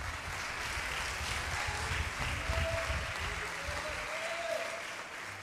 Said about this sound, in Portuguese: Aplauda o nome de Jesus, por favor.